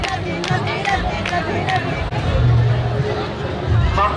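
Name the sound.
large crowd at the temple entry gate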